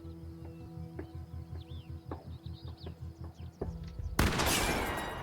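Gunfire in The Quarry during a night werewolf hunt: a rapid series of sharp repeated shots with animal-like calls in the background, then a loud burst of noise near the end.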